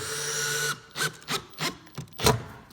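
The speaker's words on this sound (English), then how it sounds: "now what I'm going to do is just wind all the rest of these screws in" A power driver winding screws into a plywood skate ledge, a steady motor whir cutting off, followed by five short sharp bursts of driving close by.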